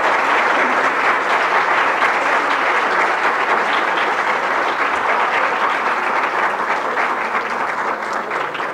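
Sustained audience applause at a Brazilian hospital wing inauguration, dense and steady for several seconds, a broad crowd of clapping hands heard loud and close without speech.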